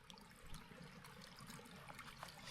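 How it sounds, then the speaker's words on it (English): A small stream on boggy Lake District fells runs as a faint, steady trickle and babble of water, quiet and continuous with no voices. "running water."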